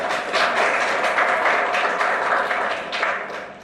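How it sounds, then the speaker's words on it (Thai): Dense, steady audience applause fills a Thai political forum on constitutional amendment, many hands clapping together in a loud, sustained wash that fades slightly near the end. "ขอเสียงปรบมือให้ท่านด้วยครับ"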